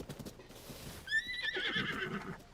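A giant horse in Zelda: Tears of the Kingdom lets out a bright, rising whinny midway through, over soft hoof clip-clops and quiet game ambience.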